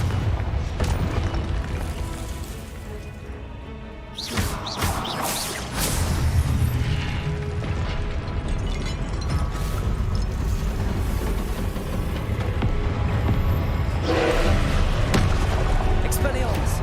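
Booming blasting-spell explosions from Confringo in Hogwarts Legacy, several heavy impacts with crashing debris amid continuous game noise, with a voice talking over parts of it.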